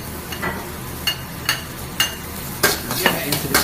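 Ginger stirred and fried in oil for a Japanese vegetable dish, with a steady sizzle under sharp spatula scrapes and clinks against the pan at an irregular pace, close up.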